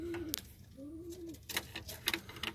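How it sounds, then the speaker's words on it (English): Young white homing pigeons in a backyard loft give soft, repeated coos at close range, with rustling and small knocks between the calls. "And my young homing pigeon."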